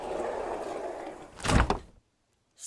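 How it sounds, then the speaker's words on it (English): A sliding door in a sci-fi drama set unseals with a short hiss and then a solid thunk, fairly close and loud, before everything cuts to near silence. "Herman, unseal the door, admit Dame Lenina, then seal the door again"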